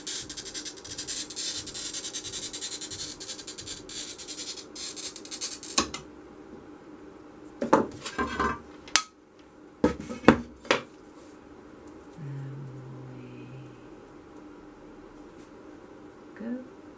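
An oiled glass cutter scores stained glass, first as a steady gritty scraping for several seconds. A few sharp taps and knocks follow, then brief low sounds, all up close.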